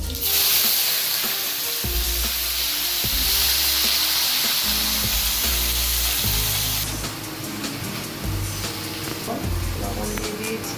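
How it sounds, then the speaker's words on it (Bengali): Dried red chillies dropped into hot oil after roasting moong dal for khichuri, a loud, dense, continuous sizzle up close, with a repeated low rhythmic thumping running beneath it. "আমি এখানে শুকনো লঙ্কা ছেড়ে দেবো"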